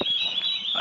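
A short, harsh, nasal bird call rings out once, loud and close, with a raspy honking tone.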